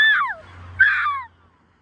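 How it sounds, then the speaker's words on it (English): Two loud, harsh bird squawks from seagulls and crows ring out close by, separated by a short pause, with a faint low hum beneath. "and now it's the seagulls. And crows!"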